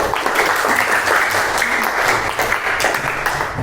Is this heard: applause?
yes